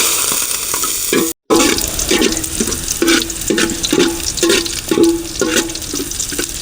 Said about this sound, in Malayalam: അതിൻ്റെ കൂട്ടത്തിൽ തന്നെ നമുക്ക് കുറച്ച് സവാളയും കൂടി ഇടാം.